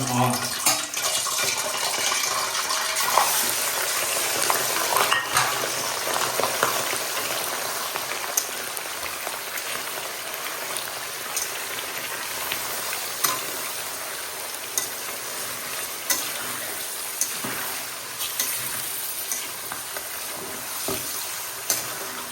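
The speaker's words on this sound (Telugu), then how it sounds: "ఇప్పుడు ముక్కలు వేసేసుకుందాము. చాలా జాగ్రత్తగా వేసుకోవాలి" Chicken pieces fry in hot oil for a chicken pickle, a steady, loud, close sizzle with a dense crackle that carries on without a break and no talk over it.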